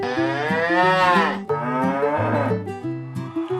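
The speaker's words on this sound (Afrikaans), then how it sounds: "Dit is 'n koei." A cow moos loudly and close by: one long, wavering low call, then a second, shorter moo after a brief break, with nothing else heard.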